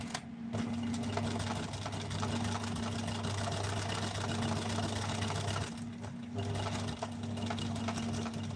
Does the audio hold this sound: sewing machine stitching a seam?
yes